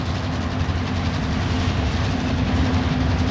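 A train rolls past in the Warzone battle royale game, a loud, steady low rumble with rhythmic clatter that stays constant and close throughout the few seconds, with no talk over it.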